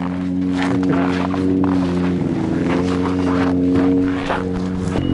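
A Yamaha vehicle engine runs in a steady, loud drone with a low, even hum, carried along with wind buffeting the microphone in a northern outdoor setting as it drives off.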